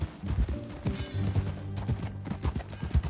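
Horse hooves clip-clop in a steady walking rhythm in the video game Red Dead Redemption 2, close and moderately loud, with a low musical drone underneath.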